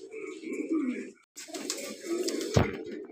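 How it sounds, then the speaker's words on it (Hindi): Kaldumа pigeons coo in low, throaty rolling calls, two bouts split by a short gap, with a sharp knock near the end; close and clear. "ये लो जी भाई, पर देखो, कलदुमा कबूतर"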